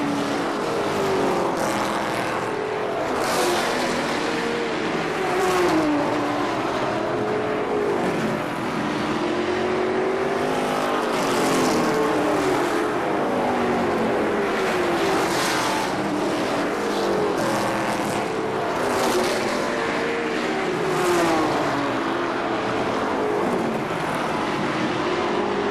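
Race cars circle the third-mile KilKare Speedway oval in Dayton, their engines making a continuous loud roar that swells and fades as packs pass in traffic.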